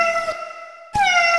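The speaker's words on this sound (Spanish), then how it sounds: "No, Pantolito, este es un gatito." A kitten meows twice in quick succession, each call a clear, tonal, slightly falling cry, loud and close with a short silent gap between them, in a children's song setting.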